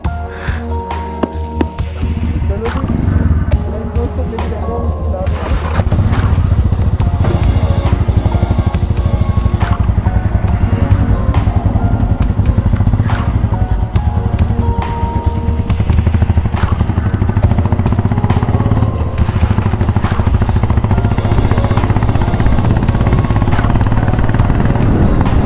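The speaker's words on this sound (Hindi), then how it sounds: "आज हमारी लाड़ू जा रही है खींच के साहिल की बाइक से" A motorcycle towing another bike on a rope during a long-distance road ride, its engine droning loud and continuous, rising after a few seconds and holding steady with road and wind noise.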